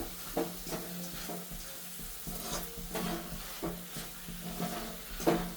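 Gundar pak mixture with crushed dried nuts being stirred in a pan, a steady scraping and stirring with soft sizzle and occasional utensil knocks, close and continuous.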